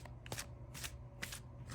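Matte cardstock playing cards being shuffled, giving repeated riffling bursts at a steady rhythm, close and moderately quiet with no talking.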